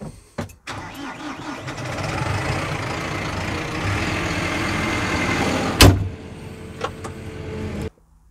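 A Massey Ferguson 6718S tractor, rated 180 hp with boost to 200, starts up close by. After a brief catch, its engine settles into a loud, steady diesel run for several seconds, then cuts off abruptly.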